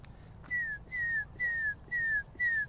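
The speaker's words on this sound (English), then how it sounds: "Red-shouldered hawk, yeah. I heard some calling off." A red-shouldered hawk at Lindo Lake Park in Lakeside, California, gives five evenly spaced, descending, high-pitched calls. The calls are clear and moderately close over faint background noise.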